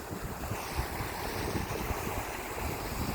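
Waves at a beach beside a fish pen, a continuous close wash of surf with heavy wind buffeting the microphone and no speech.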